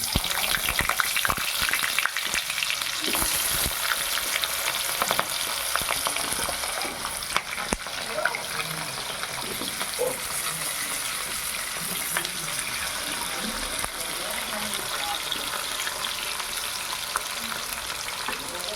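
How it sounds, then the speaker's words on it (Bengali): Potatoes crackle and hiss in hot oil, a dense, continuous frying sizzle that holds steady throughout, with occasional scrapes and pops. "এরপর আমি এই কেটে রাখা আলুগুলো ভেজে নেব।"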